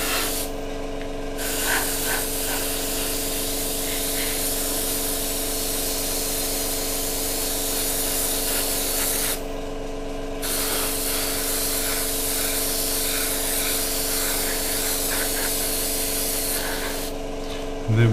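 Airbrush spraying paint onto a Tamiya 1/48 P-47D or P-51D model aircraft in natural metal finish, giving a steady close hiss that pauses briefly twice before resuming, with a low constant hum underneath.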